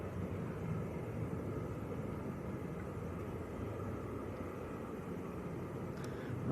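A TUI Max airliner from Kavala at Manchester Airport produces a steady broadband jet roar at moderate distance, holding evenly throughout with no talk.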